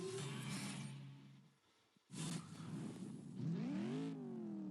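A Shelby car in the CSR 2 racing game revs loudly, drops to a brief near-silence, then roars back and climbs steeply in pitch as it accelerates, close and alone without talk.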